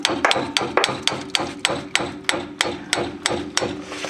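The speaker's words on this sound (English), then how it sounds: "we'll take our hammer and kind of tap that down" A hammer taps an upper ball joint down into a vehicle's control arm, about a dozen sharp, evenly spaced metallic knocks at a steady moderate pace, close and clear.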